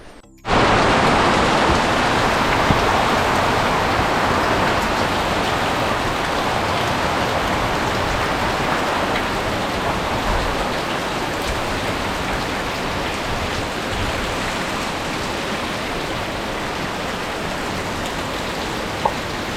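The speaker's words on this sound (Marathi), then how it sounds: "वादळ आयले असे आणि कोणाचे तरी पत्रे उडून गेले" Heavy rain from a storm pours in a dense, continuous roar that starts abruptly and holds steady throughout, loud and close with no voices.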